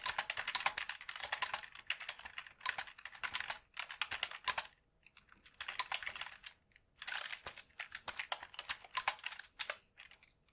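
Code being typed on a computer keyboard while hunting a bug in the Stride game engine, close rapid clatter in quick runs separated by short pauses, with no voices.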